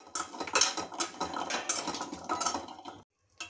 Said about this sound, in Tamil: இப்போ இதை நல்லா வறுத்துக்கலாம், அப்போ தான் ஈஸியாக இந்த மேலே இருக்க தோல் எடுத்துடலாம்.